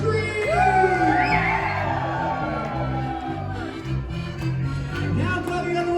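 A crowd of people yells and screams at a party, rising whoops and shouts over loud, pulsing dance music.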